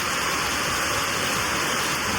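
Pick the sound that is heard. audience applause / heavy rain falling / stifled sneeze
heavy rain falling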